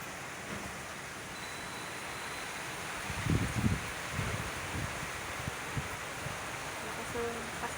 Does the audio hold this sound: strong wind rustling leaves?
yes